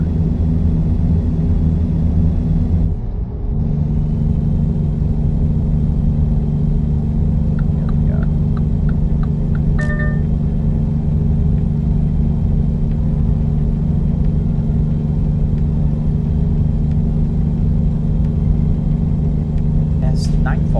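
Truck engine in a driving game, droning steadily alongside another truck while cruising in New Mexico, a constant low rumble throughout with a few faint clicks and tones on top.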